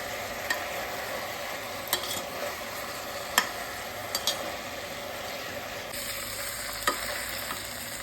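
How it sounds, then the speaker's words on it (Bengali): Mutton (goat meat) seasoned with salt and turmeric frying in a pan, with a steady close sizzle broken by a few sharp scrapes of a spatula stirring it. "আমার মাংসটা ভাজা ভাজা হয়ে গেছে"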